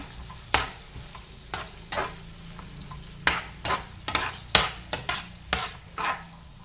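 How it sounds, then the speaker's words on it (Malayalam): Washed prawns frying with curry leaves in a pan, stirred with a spatula: about a dozen sharp scraping strokes in an uneven rhythm over a soft background sizzle, close and clear, with no talking. "അതിലേക്ക് കഴുകി വെച്ച ചെമ്മീൻ ഇടുക. എന്നിട്ട് നന്നായി ഇളക്കുക."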